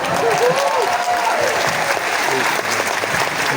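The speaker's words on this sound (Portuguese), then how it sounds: "Batam palmas para o Papa" A crowd at a Catholic charismatic renewal gathering claps for the Pope in a loud, continuous wash of applause. A voice carries briefly over the clapping.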